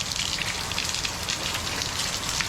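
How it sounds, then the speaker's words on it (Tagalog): Heavy typhoon rain pours down steadily, a dense, even hiss of drops drumming on surfaces nearby with no pauses. "hindi tayo matutuloy magbigay ngayon dahil sobrang lakas ng ulan"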